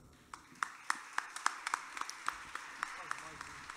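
An audience at a closing concert of Alentejo singing claps in a loose, uneven patter of individual claps, fairly faint and sparse, with some voices mixed in.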